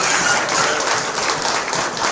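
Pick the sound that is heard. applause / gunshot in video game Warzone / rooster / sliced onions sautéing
applause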